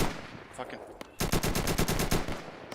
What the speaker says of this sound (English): they're shooting at us now